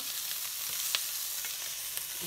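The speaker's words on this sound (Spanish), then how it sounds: "Lo que hago es mezclarle el pollo este aquí al..." Browned chicken is mixed into a frying pan with a soft, steady sizzle, broken by a few light scrapes and taps from the utensil. It is quiet overall and no one speaks.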